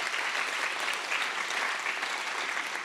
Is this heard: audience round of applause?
yes